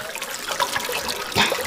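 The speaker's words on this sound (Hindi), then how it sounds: "यहाँ जमीन के अंदर से पानी निकल रहा है।" Water seeping up out of the ground inside a cave, a continuous close trickle and splash with a brief louder gush near the end, no voices over it.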